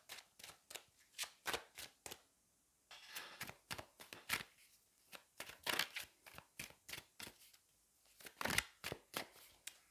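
Tarot cards are shuffled by hand, producing a rapid series of crisp riffling flutters and slaps in irregular bursts with brief pauses between, close and clear with no talking.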